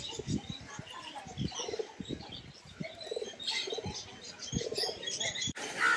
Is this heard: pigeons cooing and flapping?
yes